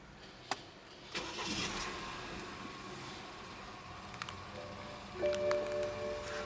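A few clicks, then a 2012 BMW X3 xDrive20i engine cranks via push-button start and turns over, settling into a soft steady hum nearby, with a faint beep and rising rev near the end.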